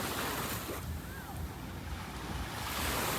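Surf washing onto Boracay's White Beach, a continuous broad rush of breaking waves with wind noise buffeting the microphone and no pause throughout.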